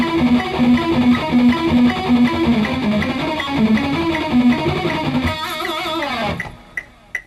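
Electric guitar plays a fast, repeating single-note lick over sustained chords in a rock guitar lesson, loud and close, then stops abruptly, leaving a few faint clicks and string noises.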